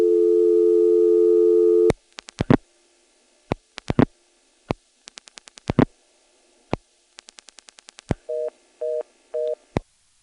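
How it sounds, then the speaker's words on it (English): Telephone central office reorder tone from a 1977 EAX local and toll switch in Rock Hill, South Carolina: a steady tone cuts off into a series of dial clicks and pulses, then three short repeated tone bursts, loud and close. "but it put on a reorder."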